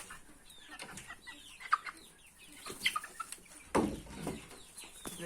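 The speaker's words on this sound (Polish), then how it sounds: "To jest kura też." A hen clucks in quick, irregular bursts close by during evening poultry shut-in, with a few sharper squawks amid faint background chatter of other birds.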